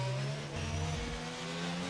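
A Formula 1 race car from the F1 22 game at the Miami Grand Prix launches away, its engine note steady and continuous with a sustained mid-level drone and shifting harmonic tones throughout.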